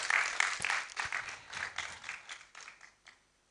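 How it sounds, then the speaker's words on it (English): Conference audience gives a short round of clapping, fairly faint and thin, a scattering of hands that tapers off to quiet within a few seconds. "I think we can give him a clap."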